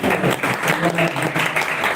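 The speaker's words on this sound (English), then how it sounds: "fantastic, huge round of applause to Aeon" An event crowd in Malaysia applauds for Aeon with a dense, steady wash of clapping that stays loud and continuous throughout.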